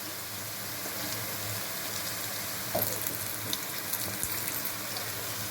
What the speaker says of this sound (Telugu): అల్లం వెల్లుల్లి పేస్ట్ కూడా పచ్చి వాసన పోయే వరకు ఆయిల్లో ఫ్రై చేసుకోవాలి.